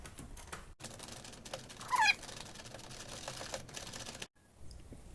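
A ratchet with an 8mm hex bit loosens a car battery bolt, giving a short run of rapid metallic clicks midway through, close up over low background noise.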